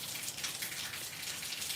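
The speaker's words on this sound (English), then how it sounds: "When I heard the rain coming down, I was trying to capture the moment." Steady rain falling in a garden, a dense, even patter of drops hitting surfaces close by, continuous and unbroken with no voices.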